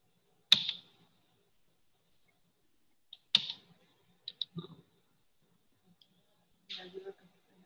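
Arrow keys on a computer keyboard pressed a few times, giving sparse, sharp clicks spread several seconds apart, some in quick pairs, with quiet gaps between them.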